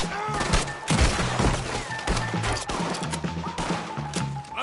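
Gunfire in Red Dead Redemption 2 during a wagon-push firefight, sharp repeated shots and crashing impacts scattered throughout at moderate level, with game dialogue voices mixed in.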